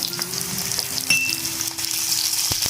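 Sliced onion and crushed garlic frying in a pan for munagaku pappu, a constant close sizzle with a few light clinks and stirring taps, and no talk.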